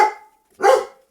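A dog barks twice out in a residential lane, two loud close yaps about half a second apart with silence after, and no one talking over them.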